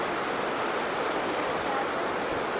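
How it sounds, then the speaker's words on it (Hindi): Two rivers, the Alakananda and the Pindar, meet at Karnaprayag in Uttarakhand, their rushing water making a steady, broad hiss that holds constant with no other sounds over it. "ये है दो नदियों का संगम"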